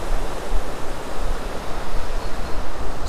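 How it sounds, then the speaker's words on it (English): A small waterfall on Langdon Beck spills beneath a road bridge in the North Pennines, a steady, loud rushing roar of falling water heard up close with no voices. "Little waterfall underneath the bridge."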